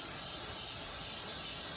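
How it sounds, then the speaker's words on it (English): A short, continuous hiss of oil spraying from a can into a wok, close and steady, with no other sounds. "we're going to spray it with some oil"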